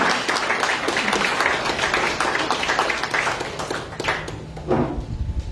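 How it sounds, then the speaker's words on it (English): Applause from a graduation audience for a speaker, uneven clapping from a crowd that thins and breaks into scattered claps toward the end. "Let's give one more round of applause for Mr. William"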